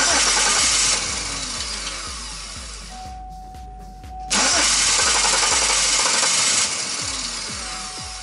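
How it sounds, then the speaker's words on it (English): A 2003 Chevy Impala engine cranks with a rapid, even chugging rhythm during a fuel pump current test, loud and close, pausing briefly before cranking resumes without the engine catching. "Crank it and see. Continue cranking it."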